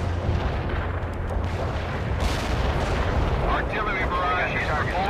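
Artillery barrage explosions in the World in Conflict video game: a dense, continuous roar of overlapping blasts and rumbling booms that fills the whole stretch. Crackly radio-style chatter cuts in near the end.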